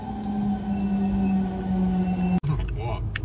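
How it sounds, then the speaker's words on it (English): An arriving car-carrier train lets out a sustained high metallic squeal of wheels on rails that holds steady and then cuts off abruptly, followed by low rumbling. "So this train is coming full of cars"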